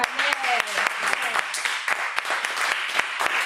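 A congregation claps during a church service: dense, steady applause fills the whole stretch, with a voice briefly rising above it near the start.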